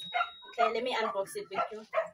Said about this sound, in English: It is the dogs outside. They are busy barking.